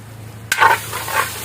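Turmeric stirred into pepper chicken frying in a pan, a sharp scrape followed by close, steady sizzling with a couple of stirring pulses.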